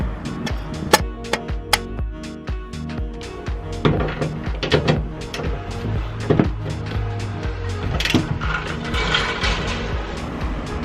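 Screws being tightened with a hand tool on a van roof while fitting a 480 W solar panel with Sikaflex sealant, giving a busy run of clicks, knocks and ratcheting clatter, close and fairly loud, with no speech.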